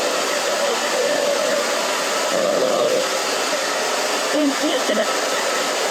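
A hair dryer blows steadily while blow-drying hair for an undercut A-line cut, a constant close-up rushing whoosh with faint shifts as it moves back and forth.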